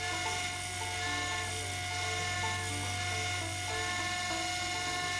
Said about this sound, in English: even though this is a 120 grit belt, it removes steel very fast